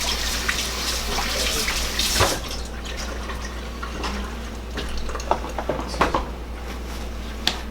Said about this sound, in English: I'm rinse my hands off. Nice little quick rinse.